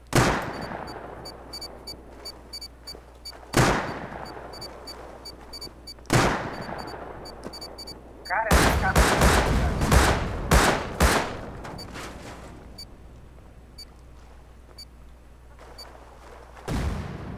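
Gunfire in the survival video game Rust comes in several sharp, loud bursts and rapid volleys spaced a few seconds apart. One longer cluster of shots falls in the middle, with no talking.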